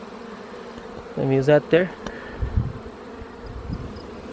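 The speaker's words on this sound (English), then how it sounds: "Look at all the bees in there, man." Honey bees buzz inside an open beehive during an inspection, a steady close hum with a brief louder burst of buzzing as someone speaks.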